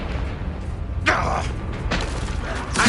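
A Confringo fire spell bursts in Hogwarts Legacy, a sharp explosive whoosh at about one second and another near two seconds, each loud and broadband over a steady game soundtrack bed.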